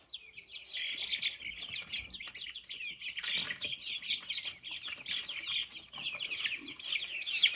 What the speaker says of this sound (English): it's also pretty obviously a rooster already